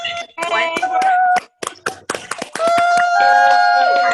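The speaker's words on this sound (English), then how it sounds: "We can unmute and hear big claps" Applause over Zoom at a Spring 2020 graduation ceremony: scattered, uneven claps from unmuted participants, mixed with voices cheering and calling out congratulations.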